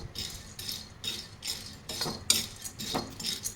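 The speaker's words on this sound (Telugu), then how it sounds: "కొద్దిగా మీడియం ఫ్లేమ్లో పెట్టుకొని బాగా ఫ్రై చేసుకోవాలి." Putnala pappu (roasted gram) dry roasting in a kadai over a medium flame: a regular rhythm of close scraping, rattling stirs about twice a second, each with a sandy hiss of tumbling lentils, no talking.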